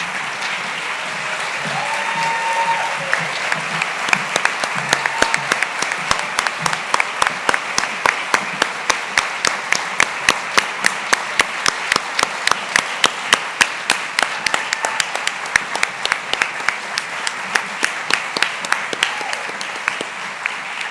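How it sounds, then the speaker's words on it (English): Long, sustained applause at an annual awards gala as the backstage crew walks to center stage. A broad crowd clapping runs throughout, with sharp, regularly spaced claps in unison cutting through the wash. "so we can give them a round of applause"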